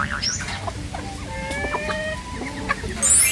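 Native chickens cluck in short, scattered calls outdoors at a fishpond, moderately near, with a steady background hiss and no talking.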